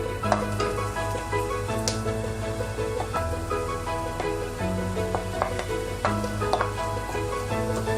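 Mashed potato stirred into a spiced masala in a pan for aloo bonda, a soft sizzle under repeated spoon scrapes and knocks, with a steady background hum and no talking.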